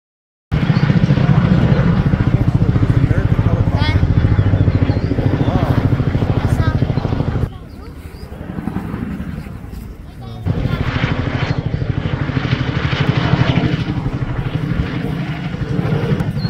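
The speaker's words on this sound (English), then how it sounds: "American helicopter. It's a big one." A large American helicopter flying over mountains makes a loud, continuous rotor and engine drone. It briefly drops in level, then swells back to full strength.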